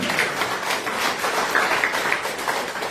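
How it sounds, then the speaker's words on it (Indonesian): A church congregation applauds, a brief run of scattered hand claps, moderately close and fairly soft. "Tepuk tangan buat Tuhan."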